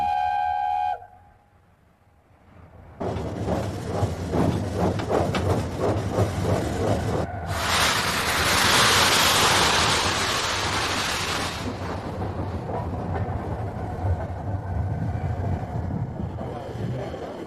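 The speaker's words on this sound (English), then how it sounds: "the proud locomotive leaves her shed on the way to pick up her train" The steam locomotive Mallard puffs and chuffs steadily leaving its shed, with a loud surge of hissing steam midway, rumbling close by and continuing without speech.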